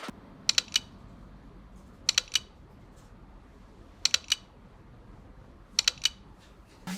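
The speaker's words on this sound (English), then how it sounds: "The shutter click sound feels very satisfying every time you take a picture." Short bursts of crisp mechanical clicks, OPPO Find X5 Pro smartphone camera shutter sounds in quick groups of two or three, repeating four times over a quiet background.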